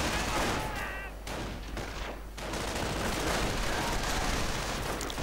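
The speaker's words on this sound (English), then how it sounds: "Grenadiers engaging the rifleman right there. Not doing too well though for the rifleman, getting shot up in a nasty manner." Gunfire from a World War II strategy game battle, grenadiers firing on riflemen: dense, continuous crackling volleys at a steady loud level, with a brief quieter dip midway before the shooting swells again.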